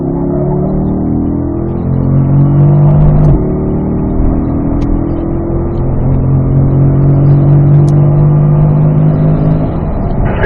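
A race car accelerates hard on the Spring Mountain North Course, a loud, steady in-car engine drone whose pitch climbs through the gears with a brief dip at a shift, heard from inside without any talking.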